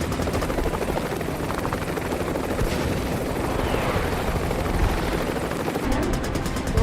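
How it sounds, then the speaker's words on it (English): Military helicopters at Quantico hover while dropping a Marine assault team by fast rope, a loud, continuous rotor roar with steady chopping thump throughout and no voices. "Today at Quantico, HMX Helos are dropping an assault team by fast rope."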